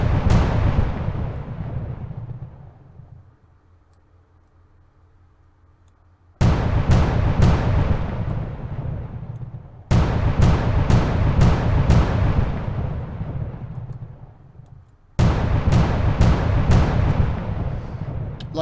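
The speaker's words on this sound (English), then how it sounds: "the guy that gave us the sound file for the gun is the only sound effect we've got at the moment" Gunfire effect from the sci-fi video game Terran Ascension: heavy, booming blasts fired in quick clusters, each volley trailing off into a long rumbling decay, loud and close with no talking.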